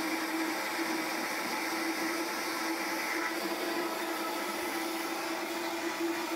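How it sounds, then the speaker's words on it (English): A blender whirs as it purees curry paste for a seafood curry, a steady motor drone with a constant whine held at an even level throughout, with no talk. "So I'm going to get this blending starting off on really slow and then turn it up"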